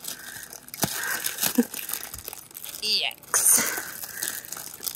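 Package of pre-chilled daffodil bulbs being torn open, with loud crinkling and crumpling of the wrapping in bursts, close up, while a person speaks briefly.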